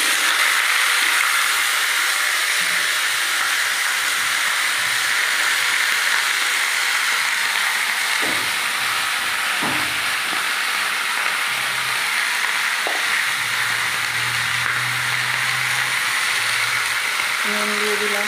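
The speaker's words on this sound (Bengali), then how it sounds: "সবজিটা ছেড়ে দিচ্ছি" Vegetables for a simple vegetarian curry frying in a pan give off a steady, loud broadband sizzle that holds evenly throughout, with a few faint low knocks and clicks underneath.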